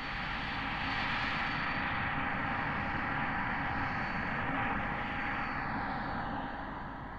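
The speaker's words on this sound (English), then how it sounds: "He locks the missile on and fires it." Aircraft firing a Condor TV-guided missile in an operational test, a steady loud roar of jet or engine noise that holds without a break, with no talking.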